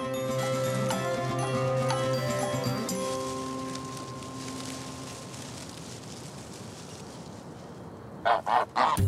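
Farmyard geese honk repeatedly at close range, a loose chorus of nasal calls layered over each other, fading into quieter ambient noise before a few sharp noises near the end.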